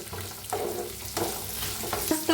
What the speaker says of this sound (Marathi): एक तंबाटू कापून घेतलाय आहे ते बी छान असं भाजून घेऊया